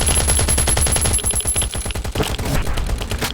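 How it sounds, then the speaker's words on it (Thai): Rapid bursts of automatic gunfire in Last Island of Survival, aimed at a robot, rattle on loudly and almost without pause from start to finish. "แล้วก็ยิงให้พังเลย"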